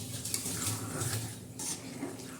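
Besan being stirred and roasted in a pan, a steady soft scraping and faint sizzle with a few light utensil clinks, continuous and fairly quiet with no talking.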